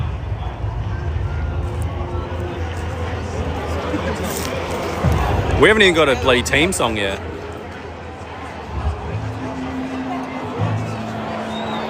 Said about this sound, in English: Can you hear the crowd?